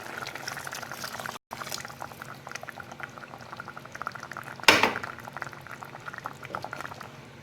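A pot of fish curry bubbles and boils steadily, a dense popping simmer close by, with one brief louder splash partway through and a short gap early on.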